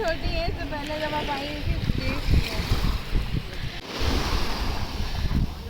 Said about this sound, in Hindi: ऊंची ऊंची लहरें आ रही हैं।